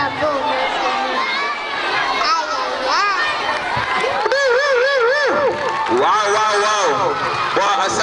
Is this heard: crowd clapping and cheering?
yes